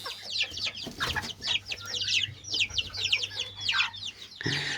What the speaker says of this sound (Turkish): inanılmaz harika bir ispenç tavuk